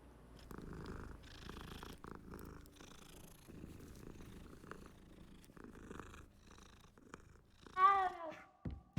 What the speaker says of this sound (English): Oh, it's another cat.